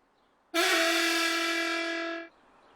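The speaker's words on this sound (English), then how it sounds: "That doesn't sound like an engine whistle." A single new whistle tried for Thomas the Tank Engine in a children's TV show: a loud, steady, horn-like tone that sounds alone for nearly two seconds, then cuts off.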